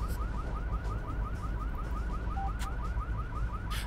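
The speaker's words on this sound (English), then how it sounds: "their attention is on that car alarm" A car alarm in the stealth game Hitman: Contracts whoops in a rapid repeating rising pattern at moderate distance, over a low rumbling game ambience with a few faint clicks.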